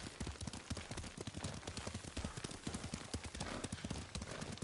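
Rapid, steady clip-clop of horse hooves trotting on hard ground in the video game Ghost of Tsushima, close and continuous, with a clattering rhythm throughout.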